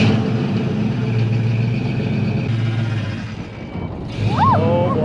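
A Ford Fox Body Mustang with a 5.0 V8 rumbles at a steady low idle throughout, the engine note dipping briefly before picking back up, with a short voice heard near the end.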